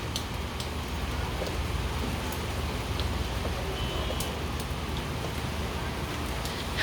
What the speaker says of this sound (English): waiting for the rain to drop. And it did drop on us.